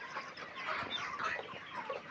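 Chickens in a poultry shed cluck and murmur softly, a faint, continuous flock chatter heard from a short distance.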